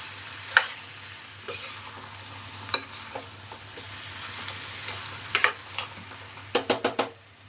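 Chicken curry sizzles softly in a pan while a spoon stirs it, with scattered clicks and scrapes against the metal that grow into a quick cluster of knocks at the end.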